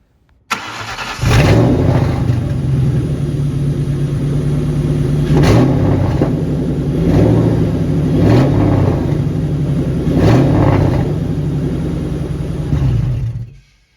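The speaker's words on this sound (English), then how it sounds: "I went to start the car with the mid pipe on." A Ford car fitted with a mid-pipe exhaust cranks and catches, then settles into a loud, close, steady idle. A deep rumble runs throughout, with periodic slight revs before the engine shuts off.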